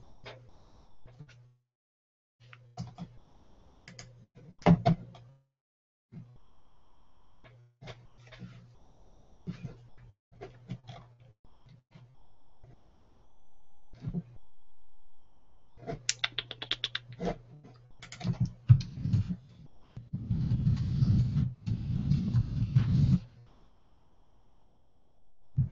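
Keys tapped on a computer keyboard in bursts of varied length, separated by quiet gaps, with a denser flurry of clatter near the end, close and moderately loud, with a low hum running beneath.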